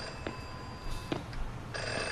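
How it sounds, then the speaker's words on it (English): A phone rings in a zombie beer game, a few faint repeating trills over a steady electronic background hum, with no talking. "Alright, I guess I'll answer the phone."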